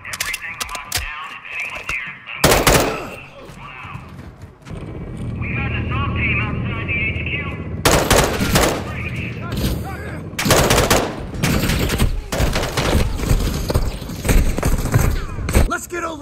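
Bursts of unsuppressed gunfire from the video game Call of Duty: Modern Warfare 2, loud cracking volleys and rapid fire in clusters amid battle noise and aircraft rumble, with voices talking between the shots.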